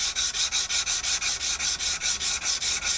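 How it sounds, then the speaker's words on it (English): Knife blade being hand sanded with long back-and-forth strokes, a loud, close, scratchy rasp repeating about five times a second in an even rhythm, with no talking. "if you're going along back and forth hand sanding"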